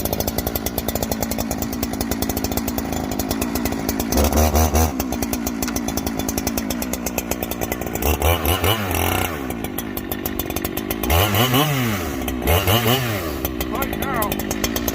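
Big chainsaws cut into barkless oak, their engines buzzing loud and close without pause and rising and falling in pitch as the throttle opens and the chain bites, with a voice talking over them.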